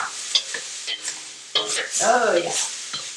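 Leftover rice stir-fried with soy sauce in a pan, with scraping stir strokes and a soft sizzle through the clip and louder tossing near the end, under a short casual remark.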